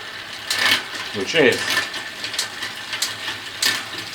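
A Shimano SLX 12-speed rear derailleur clicking through gears on a bicycle, a series of light metallic ticks and chain clatters close up over a quiet background hum.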